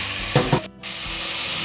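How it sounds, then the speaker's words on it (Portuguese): Beef cubes fry in melted butter with a steady, loud sizzle, broken by a couple of brief stirring knocks and a short dip before the hiss returns. "vamos colocar a carne para estar fritando aqui nessa manteiga"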